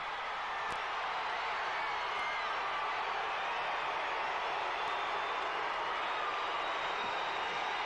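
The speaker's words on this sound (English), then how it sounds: "And the crowd noise is deafening." Roaring crowd at the 1989 NCAA Women's Gymnastics Championships, a loud continuous wash of cheering and noise that fills the whole stretch with a few faint sharp ticks.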